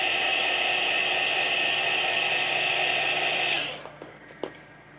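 A heat gun blows a steady, loud, hissing rush of hot air over a vinyl topo overlay on a Baja Designs Squadron light cover, then cuts off, leaving a few faint clicks and handling sounds.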